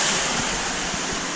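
Water showers from about three to four feet onto a tower packed with 10,000 pot scrubbers and nylon mesh above a 25,000-gallon fish tank, a steady, even rushing hiss like a small waterfall.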